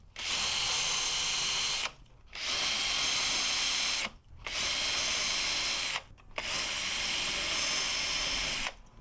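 Power drill boring a test hole in wood with a bit marked by blue tape for depth, running loud and close in four sustained bursts separated by brief pauses.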